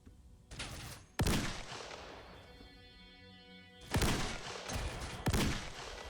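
Gunfire rings out in the video game Fate of the Zone: sharp, loud bursts of shots at about three moments, each followed by a ringing, echoing tail that decays between the volleys. No one talks.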